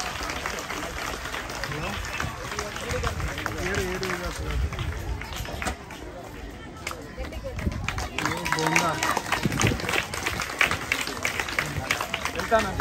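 A crowd at a speech by an RTI commissioner in Telangana claps and cheers in a dense, continuous burst of applause, with voices mixed in.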